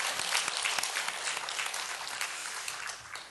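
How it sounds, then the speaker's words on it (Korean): A church congregation at a Sunday morning service applauds, a steady, moderately faint wash of many hands clapping that tapers off slightly at the end. "우리 하나님께 영광의 박수를 돌려드리겠습니다"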